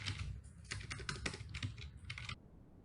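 Quick, fairly quiet typing on a computer keyboard while filling in passport details on an online visa form. The keystrokes come in a rapid run and then stop.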